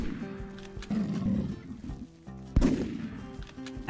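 A lion in a big game hunting video game roars in a fight, loud, rough bursts rising twice over about four seconds, with a sharp gunshot-like crack in the middle.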